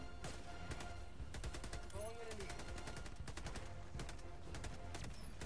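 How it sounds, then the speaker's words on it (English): Rapid gunfire bursts in the Helldivers 2 game, dense repeated shots and explosions running throughout with a few game sound effects layered in. "Why are you shooting at people?"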